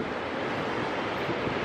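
Ocean waves washing onto the shore at a New England beach in Narragansett, Rhode Island, a steady, loud wash of surf and wind noise filling the short stretch with no pauses.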